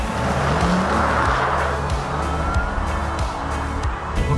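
Artificial sport driving sound from a Porsche Taycan electric car in Sport Plus mode, a loud, continuous synthetic whir with a steady low hum and a rising tone, heard close and alone without talk.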